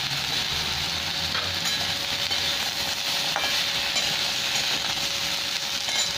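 Thin potato and pumpkin slices frying in oil in a pan, a dense continuous sizzle with a few faint scrapes from stirring, close and steady, no speech.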